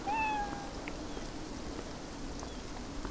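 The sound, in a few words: cat meowing in the video game Beyond Eyes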